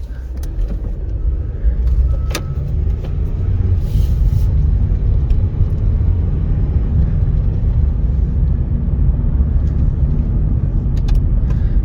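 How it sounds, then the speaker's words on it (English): A car being driven with low brakes and a tire pressure warning light on, its engine rumbling loudly and steadily throughout, with a brief higher whir partway through. "Now we can drive it."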